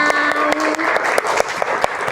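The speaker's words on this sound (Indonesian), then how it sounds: "Tepuk tangan buat kita semuanya." A classroom gives itself applause at the close of a social studies lesson: sharp, scattered claps at an uneven rhythm sound close by, with a faint voice-like tone early on.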